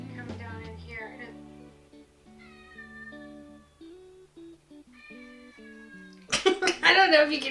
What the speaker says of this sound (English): the cat is seriously crying at the door and he can't come in because I'm filming.